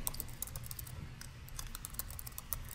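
Fingers typing steadily on a computer keyboard, quick soft clicks in an even run, close and quiet, with no talking.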